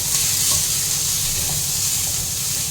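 Chopped onion dropped into hot oil on a gas stove, giving a loud, dense, steady sizzle and hiss with no pauses and no voices.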